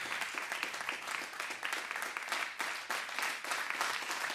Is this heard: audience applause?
yes